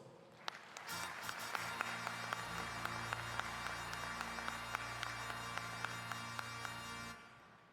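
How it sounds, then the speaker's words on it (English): Sustained applause from an audience at the 2019 American Legion youth shooting championship awards ceremony, building quickly to a steady, even roar of many clapping hands with a few sharper claps standing out, then stopping abruptly. "Please give her a warm round of applause."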